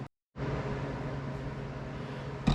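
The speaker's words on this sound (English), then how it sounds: "my garage heater kicked in and the fan is going." Garage heater fan blowing steadily after a moment of silence, a constant broadband whoosh with a low hum underneath, moderate and close, with no voices.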